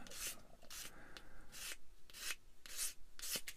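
A small model kit part is sanded by hand, making soft, close, rhythmic rasping strokes, about eight short scrubbing passes at a quiet level with no talking.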